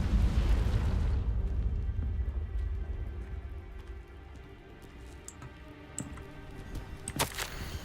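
A Confringo spell blast in Hogwarts Legacy lands with a loud fiery burst that rumbles and then fades into a soft crackling tail, followed by a few small pops.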